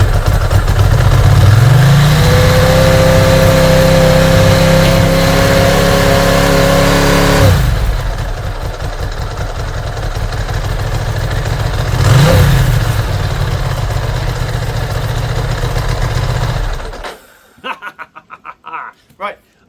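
A Ducati motorcycle engine fires up and revs with the choke out, running loud and close for about fifteen seconds with a couple of throttle blips before cutting off; a person chuckles and talks over it.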